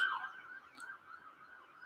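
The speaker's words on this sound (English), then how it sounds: "And you will hear sirens quite a lot because we live between two hospitals." A distant siren in Copenhagen, near hospitals, wails steadily with a wavering pitch, faint and alone against a quiet background.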